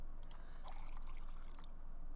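Water pours in a Sims game, a soft, faint trickle lasting under two seconds over a quiet background hum.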